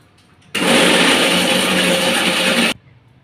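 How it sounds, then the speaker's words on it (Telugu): A mixer grinder whirs loud and close for about two seconds as it blends a red chilli pickle paste with ginger and fenugreek powder, starting and cutting off abruptly, with quiet before and after. "మిక్సీ చేసుకుందాం"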